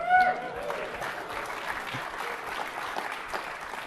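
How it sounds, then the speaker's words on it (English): Audience applause at a technical talk on Windows Server and PowerShell, a steady wash of many hands clapping at moderate level for a few seconds, with no one speaking over it. "Claps, please."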